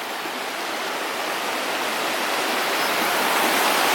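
Santa Rita waterfall near Salento, Colombia, cascading in a steady, loud, broadband roar heard close up, unbroken and alone with no voices.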